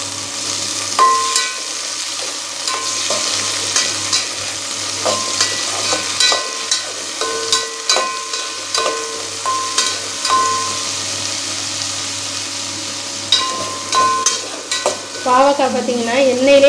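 Large-cut pieces of bitter gourd sauté in hot oil for a kuzhambu, with a steady close sizzle and repeated scraping stirs of a spatula against the pan. No one speaks.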